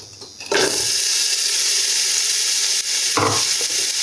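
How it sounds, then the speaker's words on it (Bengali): Onions hitting hot oil for Ramadan iftar chicken samosa filling set off a loud, steady sizzle that jumps up suddenly and holds, with a brief stir or clatter near the end. "তেলটা গরম হয়ে আসলে এর মধ্যে আমি দিয়ে দেব পেঁয়াজ"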